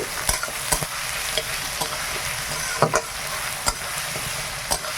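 Onions fry in a pan for a country chicken curry, a constant hissing sizzle broken by sharp spoon clicks and scrapes at irregular intervals, close and clear with no talking.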